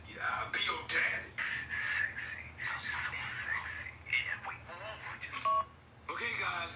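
A telephone dials with short DTMF key tones and then rings, heard alongside people talking and bird chirps in the background.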